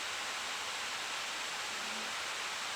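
A steady, loud rushing whoosh of Acer Predator Triton Neo 16 gaming laptop cooling fans spinning at high speed in turbo mode, an even airy hiss with no pauses or voices.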